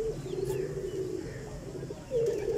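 Close-up cooing of a breeder's pigeons, a low sustained throaty call that fades, then a second louder coo rises near the end over a dull background.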